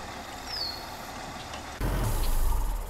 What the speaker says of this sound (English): spacebar is what turns the engine off, gets rid of all that noise